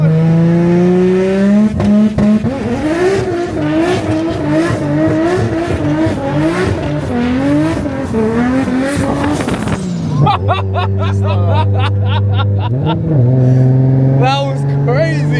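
A modified Nissan Silvia S15 accelerates hard, its engine climbing through loud, rising revs in repeated gear pulls, then settling into a lower, steady drone with brief surges, close by, with people talking over it.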